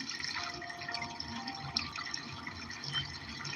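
Water trickles and drips continuously at a moderate level, a steady watery splashing with small droplet ticks and no voices.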